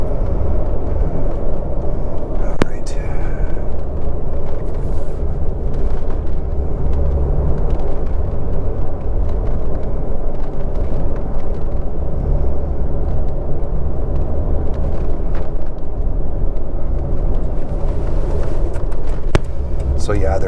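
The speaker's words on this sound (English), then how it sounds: "Oh, there's a truck coming up behind me." A truck on a desert road draws up from behind, its engine rumbling steadily loud and close under the drone of the car's own cabin, while a person talks briefly throughout.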